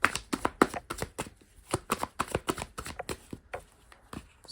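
Tarot cards slap and shuffle against one another in a quick series of soft, close taps and brushes, one being laid down over another, with no voices.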